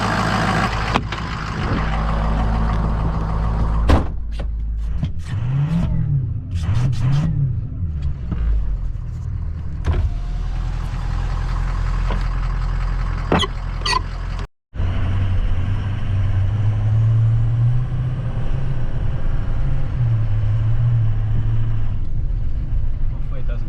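A Ford F250 pickup truck engine runs and rises in revs as the truck sets off driving, a loud steady rumble with a few clicks and clunks early on, under occasional talk from people inside.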